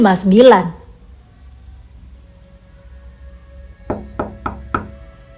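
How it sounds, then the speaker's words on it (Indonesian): Four sharp knocks on a door, evenly spaced and fairly close, come after a brief stretch of speech and a quiet pause. "Aku terdiam terpaku mendengar suara pintu yang diketuk kembali."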